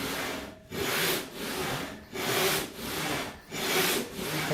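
A hand saw resaws a wide wooden board in a steady rhythm of rasping push and pull strokes, about seven close, even passes, with no talking.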